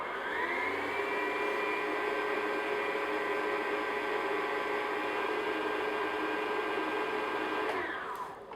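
An electric stand mixer runs on low speed, blending flour and kosher salt for a cherry pound cake, giving a steady loud motor whir with a constant pitch that carries on throughout and stops near the end.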